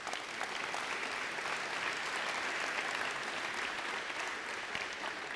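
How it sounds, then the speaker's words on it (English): An audience applauds at a college fall convocation, steady sustained clapping from many hands filling the whole stretch at moderate volume, with no speech over it. "Let's give the community a round of applause."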